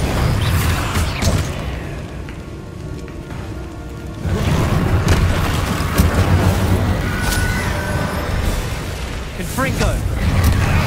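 Bombarda spell blasts in Hogwarts Legacy, several booming explosions with rumbling debris mixed into busy combat noise, loud and close, with voices calling out over them.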